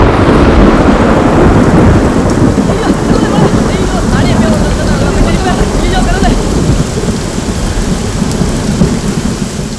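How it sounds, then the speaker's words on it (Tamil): Steady rain pours alongside rumbling thunder over a hillside, a loud, dense wash of rainfall with deep low rolls, continuous and close throughout, easing slightly near the end. "அப்படியே அந்த மலை மேல மழை பெய்யற மாதிரி ஒரு ரெயின் எஃபெக்ட் போட்டா சூப்பரா இருக்கும்ல?"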